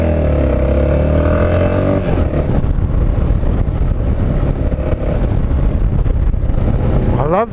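Motorcycle engine revving hard with the clutch ridden aggressively, a loud, close rising and falling roar with clattering texture throughout, pitch climbing sharply near the end.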